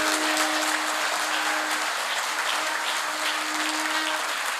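A church congregation applauds loudly and steadily, a dense, continuous wash of clapping that fills the room from start to finish.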